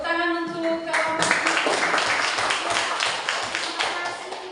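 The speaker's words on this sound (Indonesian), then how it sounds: "Tepuk tangan untuk kelompok." A classroom group gets a burst of applause, many hands clapping in a dense, fairly loud patter that starts after a brief tone and continues to the end.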